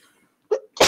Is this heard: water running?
no